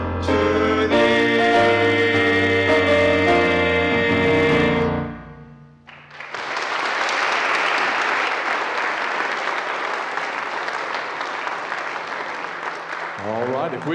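Audience applause after a band finishes the U.S. Air Force song at a live event, the closing chords giving way to loud, sustained clapping that fills the room for several seconds before tapering off.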